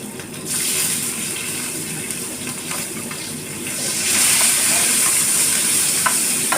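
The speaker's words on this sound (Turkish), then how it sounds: "Önce biberlerimiz kızartalım arkadaşlar." Peppers sizzle and hiss steadily in a hot pan close by, a continuous crackling fry that grows slightly louder toward the end.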